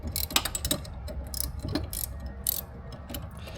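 A ratchet clicks in quick, uneven strokes as it loosens a tie rod on a 2008–2012 Ford Escape, a close, crisp series of pawl ticks with metallic rattles.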